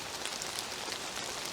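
Rain falls and drips onto foliage in woodland beneath a sheltering tree limb, a steady close hiss of drops with no voices.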